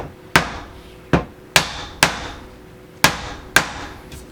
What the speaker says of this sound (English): And now we hit it with our hammer.